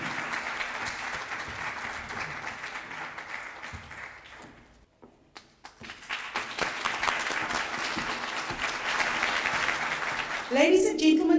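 A crowd at a college graduation ceremony claps in sustained applause, briefly dipping quiet midway before swelling again into loud, continuous clapping with some voices mixed in.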